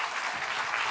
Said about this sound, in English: I want to have a big round of applause for the speakers and the panelists.